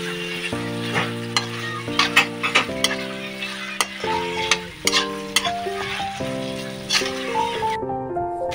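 Potatoes frying in a pan as a home-cooked dish begins, a constant loud sizzle broken by frequent spoon knocks and clinks against the metal, with a brief pause near the end.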